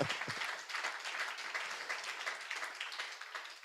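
A church congregation applauds the Lord in steady, even clapping that carries on throughout, moderately loud and filling the room, with no voices on top.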